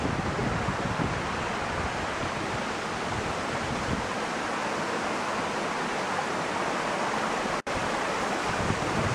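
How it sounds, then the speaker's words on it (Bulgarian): A small mountain stream runs through a ravine beside a trail, giving a steady, close, broadband rush of flowing water that continues without pause. "Ето го и дерето с рекичката."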